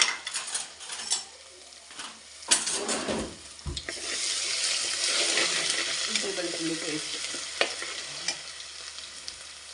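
Ginger garlic paste frying in a pan for butter chicken, a close sizzle that swells into a steady hiss, with spoon scrapes and clinks against the pan early on and no speech.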